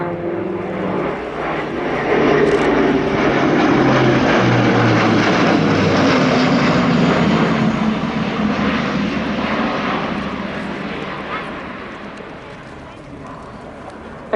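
A German Luftwaffe Airbus A400M military transport makes a loud, sustained flying display pass at RIAT Fairford 2025, its propeller engines swelling to a steady roar that fades slightly as it moves away.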